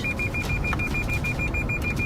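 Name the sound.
Lexus car sensor beeping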